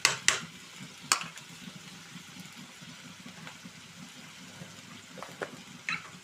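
Tomatoes and dried red chillies with turmeric cook in a pan for an old-style chutney, giving a soft steady simmering hiss with a few sharp clinks of a utensil against the pan.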